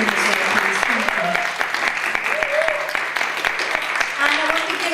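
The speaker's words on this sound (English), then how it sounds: "So a big round of applause for him as well, please" An audience at a Women's Day celebration gives a round of applause, continuous dense clapping with some sharper individual claps standing out, while a few voices speak and murmur underneath.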